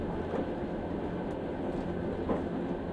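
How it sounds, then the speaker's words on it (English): A train slowing into a station platform sends a continuous dense rumble and rattle through the carriage, fairly loud and steady, with a couple of soft knocks as the car rocks gently, and no voices. "The train slows, rocking gently as it approaches the platform."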